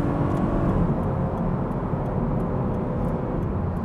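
A naturally aspirated engine of a 2012 Toyota GT 86 drones steadily and loudly throughout, a continuous rumbling hum without clear revving or pauses.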